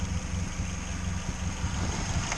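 An engine idles steadily during a startup test run, with a constant low rumble and faint mechanical vibration heard up close and continuous with no talk.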